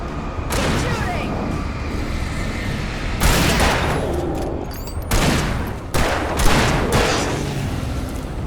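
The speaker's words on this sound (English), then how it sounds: "Shooting!" Dense gunfire in the horror action game Alan Wake Remastered, loud sustained volleys of shots and booms rising in bursts over a constant roar of combat.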